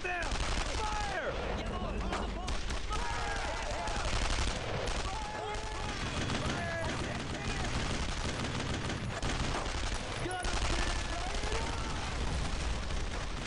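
Squad gunfire in Brothers in Arms, a dense and continuous stretch of rifle and machine-gun shots with occasional blasts, loud and close throughout, while voices shout over the battle.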